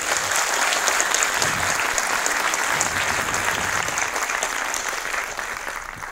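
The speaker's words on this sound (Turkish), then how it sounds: "Ve dedi ki bir alkış." Audience applause at an awards show for the worst Turkish TV series, a dense, steady burst of clapping from a crowd that carries through and fades slightly near the end, with no voices on top.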